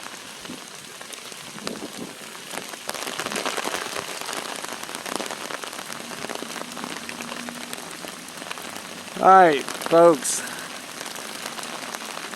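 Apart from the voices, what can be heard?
rain falling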